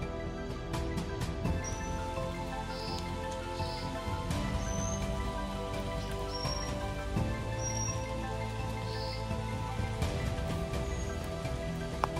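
Steady rain patters on a mountain trail on Mount Sumbing, with scattered drips and birds chirping faintly in the background, continuous and fairly close throughout.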